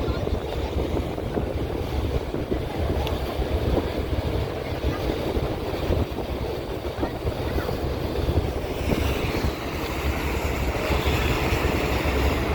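Passenger launch cruising on the river at Sadarghat, overtaking another launch, with a steady rumbling engine drone, water wash and wind buffeting the microphone throughout, no talk.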